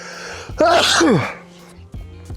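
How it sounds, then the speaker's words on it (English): One loud, explosive sneeze erupts close by, with a drawn-in breath just before it and quiet background hum afterward. "I gotta sneeze so bad."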